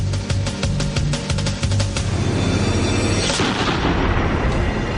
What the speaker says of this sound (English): Now, all the pressure's on the sniper. The shot is his to hit or miss.